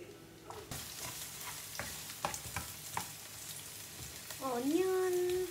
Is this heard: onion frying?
yes